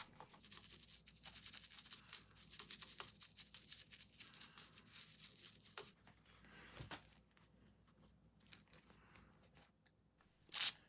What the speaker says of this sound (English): I'll use some Dawn Power Wash and scrub the insides with a toothbrush.